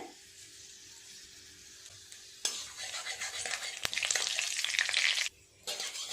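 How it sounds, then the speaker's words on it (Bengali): Asafoetida and nigella seeds stirred in hot oil in a wok: a faint hiss swells into a loud crackling sizzle halfway through, briefly drops off, then picks up again. "হিং আর কালো জিরেটা একটু নেড়ে চেড়ে নিয়েছি"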